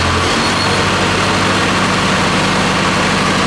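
Diesel tractor engine with a freshly rebuilt motor holds a steady idle-like run at about 1,500 RPM, a loud, continuous low rumble with even vibration throughout and no talking.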